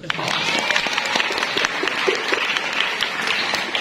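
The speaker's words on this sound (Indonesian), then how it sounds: "Tepuk tangan dulu dong." A crowd claps steadily for about four seconds at a seminar, a dense, even patter of many hands filling the whole clip.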